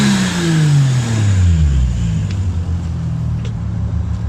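A turbocharged 2JZ-GE engine in a Lexus IS300 revs loudly and close by, its pitch sweeping down as the revs drop and then settling into a deep, rumbling idle.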